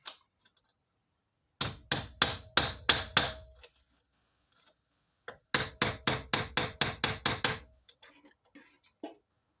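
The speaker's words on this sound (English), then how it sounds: "I'm just going to chop that nail off and grind the ends flat." Sharp metal blows chop off a nail during a gear indicator repair on a Tornax V200. They come in two quick bursts of evenly spaced strikes, loud and close, with quiet gaps between them.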